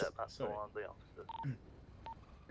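Telephone dialing tones sound in a phone call in GTA V during a police roleplay, short beeps heard faintly among overlapping game speech and background noise.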